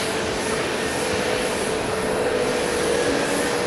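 Air New Zealand airliner in mostly black livery, its jet engines giving a steady, even broadband roar that holds at a constant level throughout with no voices.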